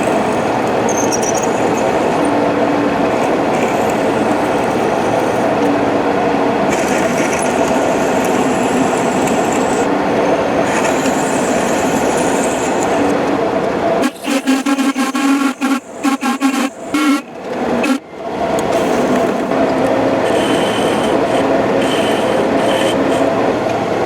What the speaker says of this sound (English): So now I've got to drill this out to 1/2 inch.